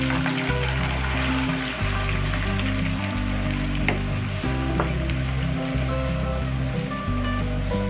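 Onion puree goes into a hot pan of oil while cooking a tinda (tendy) dish. A loud, steady frying sizzle hisses close up throughout, with no voices.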